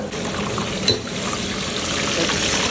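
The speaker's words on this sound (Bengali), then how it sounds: "দেখুন পদ্মার ইলিশ ভাজা হচ্ছে দেখুন ছোট ছোট পিস করে" Small pieces of Padma hilsa fish fry in hot oil with a steady, close hiss and crackle, plus a faint clink of utensils.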